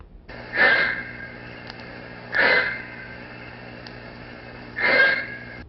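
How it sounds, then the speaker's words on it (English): Three short, sharp high-pitched barks from a silver-backed jackal, spaced a couple of seconds apart, mid-distance, over a quiet steady background hum. "These handsome scavengers have a high-pitched bark which sounds like this."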